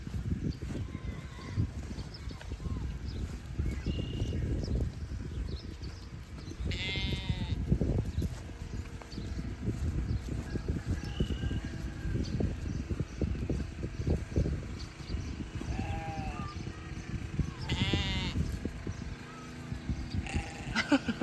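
Sheep bleating on a homestead farm, several short calls at moderate distance over steady outdoor rustle and shuffling footsteps.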